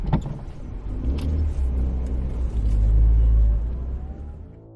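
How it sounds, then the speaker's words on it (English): A truck engine starts with a sharp thump, then a deep rumble builds and swells as the vehicle pulls away, easing off at the end, with no talking. "John darted out of the store and jumped back into his truck."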